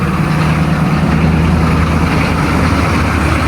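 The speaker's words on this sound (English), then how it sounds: "Look at that cold start. And yep, you can tell it's a diesel." A 1985 GMC diesel Suburban idling just after a cold start, giving a loud, steady, rumbling drone with a low hum throughout, close by and unbroken for about three and a half seconds.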